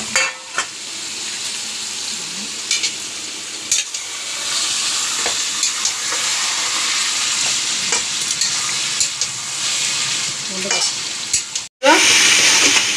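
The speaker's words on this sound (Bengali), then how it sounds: "আমি এবার এর মধ্যে এই যে খাসির কিমা, এখানে 1 কিলো কিমা আছে" Minced goat meat, a kilo of it, fries with browned onions in a pan, a steady loud sizzle broken by scraping strokes of a spoon as it is stirred, with a brief gap near the end.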